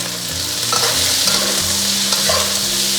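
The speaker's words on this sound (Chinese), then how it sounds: "炒肉的时候，这个火不用开得特别大，就是中小火慢慢炒，把它表面炒至焦焦的。" Pork stir-frying with onion and ginger over medium-low heat, a steady close sizzle with the scrape and clatter of a spatula stirring through the pan, no voices.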